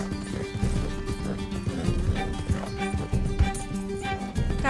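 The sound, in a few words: horse galloping in video game Red Dead Redemption 2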